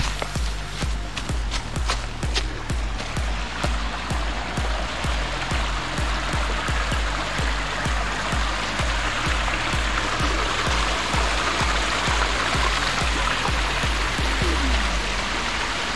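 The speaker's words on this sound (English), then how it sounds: "you get to experience a little waterfall." A small waterfall on a hiking trail at Purgatory Chasm in Massachusetts, its water splashing and rushing in a steady, close, continuous wash that stays loud throughout with no talking.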